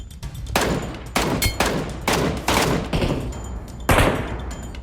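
Rapid bursts of PUBG Mobile gunfire, several sharp volleys in quick succession with brief gaps between, loud and close.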